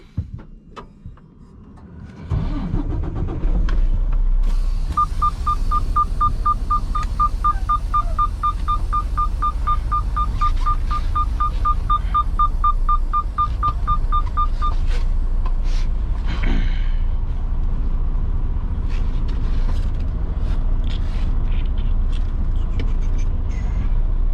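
A semi truck is unhooked from its trailer: a short hiss of air, then a steady idling engine rumble, with a rapid regular beeping or clicking for several seconds in the middle and scattered clanks and a thump near the end.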